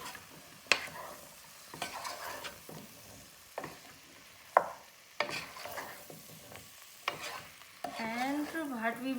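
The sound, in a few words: stirring aloo gobi in a frying pan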